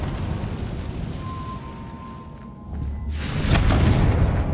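A Confringo spell blast in Hogwarts Legacy lands as a low booming eruption with a crackling burst that swells near the end, over a steady rumbling game backdrop.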